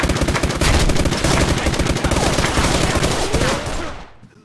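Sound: gunfire in the video game SKILL Special Forces 2

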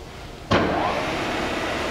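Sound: Southwestern Industries TRAK CNC bed mill spindle running at 2,000 RPM

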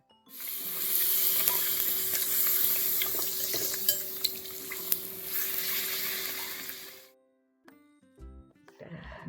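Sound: puris deep-frying in oil

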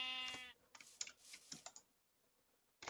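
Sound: sheep bleating in a video game

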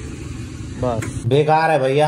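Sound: motorcycle engine misfiring and about to stall

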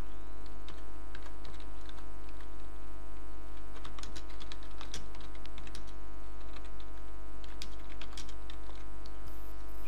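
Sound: typing on a computer keyboard into a Word document

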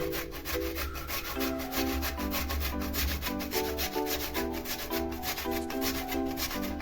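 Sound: grating potatoes on a grater

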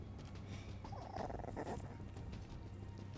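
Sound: dog growling and whimpering

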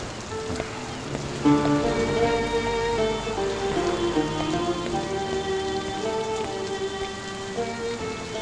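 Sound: heavy rain falling

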